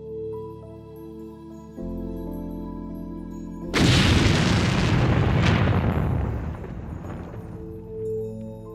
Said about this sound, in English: This impact blast was actually so immense that both the hitting meteorite chunk as well as target dolostones got vaporized immediately.